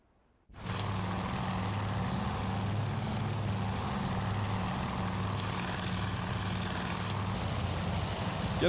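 WWII Zero fighters and bombers in a naval air combat game drone in from a near-silent start, the propeller engines rising into a steady, loud, unbroken hum.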